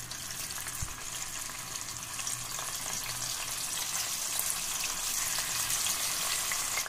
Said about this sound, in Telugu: మంచిగా ఇట్లా కట్ చేసి పెట్టుకున్న పన్నీర్ వేసి మనం ఫ్రై చేసుకుంటాము.